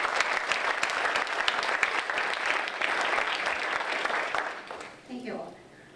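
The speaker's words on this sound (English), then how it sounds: "let's give a hand of applause to our organizers" A conference audience at a working group session gives sustained, dense applause for the organizers, steady and loud before thinning out, with a voice emerging as the clapping fades.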